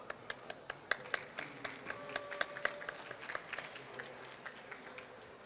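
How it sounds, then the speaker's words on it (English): Scattered audience clapping for a startup pitch, sharp separate claps that thin out and fade, with a voice murmuring briefly underneath. "Round of applause for him, please."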